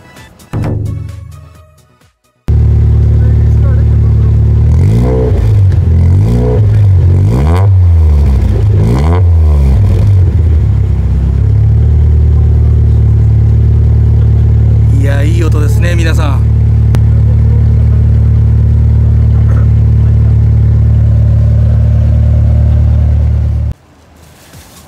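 A Nissan R30 Skyline with a new Restard all-dual muffler revs up close at a car meet, giving several sharp throttle blips and then a long loud steady drone before cutting off abruptly. People talk around it.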